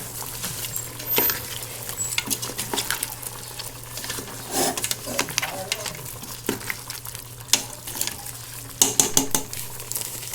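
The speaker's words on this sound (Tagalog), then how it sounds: "Mix muna natin." Duck kaldereta being stirred in a pot with a spoon, giving repeated scraping and clinking strokes over a steady low simmering sizzle, close and moderately loud, with no talking.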